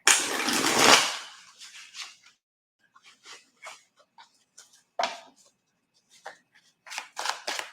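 Tarot cards being shuffled, a loud riffling burst at the start followed by scattered soft taps, slides and flicks of the deck, close and alone with no talking.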